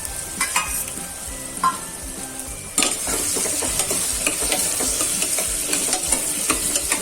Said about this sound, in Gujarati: એકદમ સરસ અને તેલમાં હળહળવા દેવાની છે